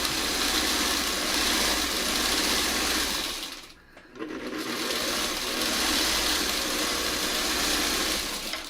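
A sewing machine runs steadily while stitching quilt block pieces, a continuous close motor whir that briefly stops near the middle and then starts up again.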